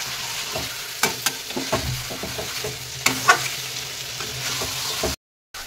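Kashmiri chilli powder and ground ginger-garlic paste sizzle and get stirred in a pan for chicken kosha, a close steady fry punctuated by sharp spoon clacks against the metal before a brief cutoff.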